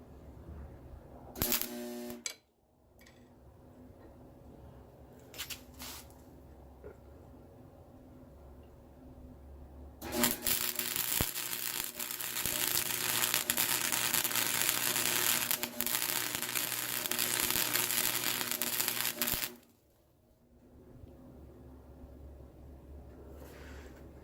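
A welder lays tack welds on steel parts for a twisting wrench, with short crackling bursts early on, then a long harsh buzzing weld running about ten seconds before cutting off to a low hum.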